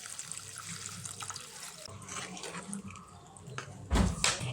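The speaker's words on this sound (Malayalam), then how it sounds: "ഇനി നമുക്ക് മീൻ വേകാൻ ആവശ്യത്തിനുള്ള വെള്ളവും കൂടെ ഒഴിച്ചു കൊടുക്കാം" Water pours and splashes into a pan of Kottayam-style red fish curry, a soft, uneven trickling that swells into a louder gush toward the end, with no talking.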